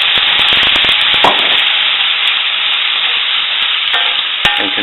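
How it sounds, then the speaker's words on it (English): Onions caramelize and fry in a pan, a loud close sizzle with crackling pops and scrapes of stirring at the start and again near the end. "the onions are caramelizing nice"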